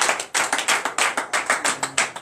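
A congregation at a Sunday church service claps in acclamation, a steady run of close, sharp handclaps in a brisk rhythm with no talking over it.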